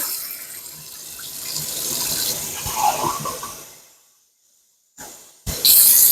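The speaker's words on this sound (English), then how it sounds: "I'm gonna put a little bit of water in the bottom of this pan" Water from a kitchen faucet pours into a pan with a loud steady splashing rush that fades out. After a pause come a brief burst and then a louder spray as the tap is opened again.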